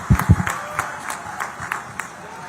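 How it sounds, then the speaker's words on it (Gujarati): An audience claps to welcome Amit Shah at a Gandhinagar gathering: a few sharp, close claps open it, then lighter scattered clapping carries on at a moderate level. "ખૂબ બધી તાળીઓના નાદ સાથે આવકારીએ"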